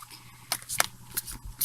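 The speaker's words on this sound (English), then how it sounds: "Whenever I shuffle cards, I usually do it in this manner." Tarot cards are shuffled by hand in a quiet room, making a few crisp, brief snaps and riffles spaced irregularly across a short moment.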